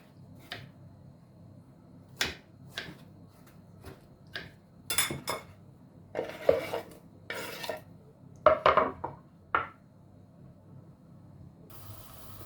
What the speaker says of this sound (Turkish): Küp küp doğruyorum.